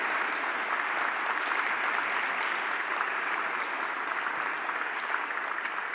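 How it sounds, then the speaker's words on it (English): An audience at a 2016 Aspen Institute leadership gala breaks into sustained applause, a thick, even wash of clapping that carries on without pause or speech. "Let's applaud our young leaders, the precious joy of the Aspen Institute worldwide."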